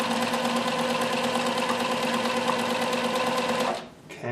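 Bernina 610 sewing machine running a fine zigzag stitch, a rapid, even mechanical whir, close and steady, stopping abruptly near the end.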